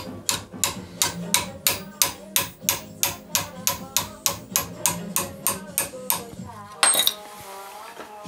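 Steady hammer blows on a 2.4 mm rivet fixing a knife blade, about two strikes per second with bright metallic rings, running for several seconds before a final lighter clink.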